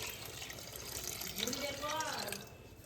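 Tap water running steadily into a basin at home, a continuous close splashing hiss with no speech.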